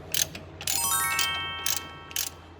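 A loose suspension link under a Mercedes is turned by hand, giving quick ratcheting mechanical clicks and a rising metallic whir, close and fairly loud with short pauses between bursts.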